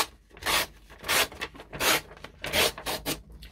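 Paper is torn against the edge of a metal ruler in several separate rasping strokes, each a short scratchy rip with brief pauses between, close to the ear.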